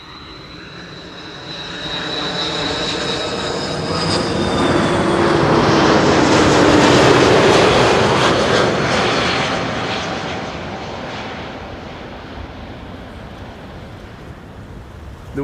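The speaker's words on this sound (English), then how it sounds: "flight 696 arriving from Toronto in Canada" A passenger airliner on flight 696 from Toronto comes in to land at Schiphol on runway 06. Its engines roar as a broad, swelling rush that peaks mid-pass and slowly fades, steady and fairly close, with wind in the background.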